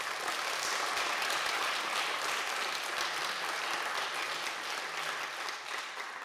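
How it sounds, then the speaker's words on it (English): A conference audience applauds at an opening talk, a dense, loud wash of clapping that holds steady for several seconds and thins slightly at the end. "Let's give them an applause for being awesome."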